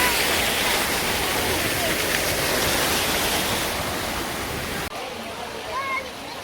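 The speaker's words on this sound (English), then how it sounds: "I'm at a waterfall at the Wadi David in En Gedi." Waterfall at the Wadi David spring in En Gedi, a desert oasis by the Dead Sea, pours as a loud, steady broadband rush close by, dropping suddenly near the end to a quieter wash.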